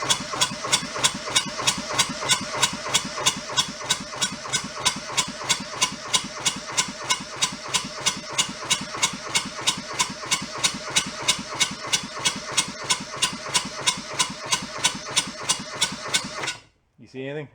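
A junked small diesel engine cranks to life and settles into a steady, rapid idle, its rhythmic knocking loud and close and running nearly the whole time before cutting off abruptly at the end.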